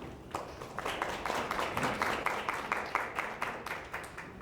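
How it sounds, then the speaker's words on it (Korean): A seminar audience in a startup ESG session claps in welcome, a crisp, fairly dense round of individual hand claps with a steady rhythm, moderately near and without speech over it. "큰 박수 부탁드립니다."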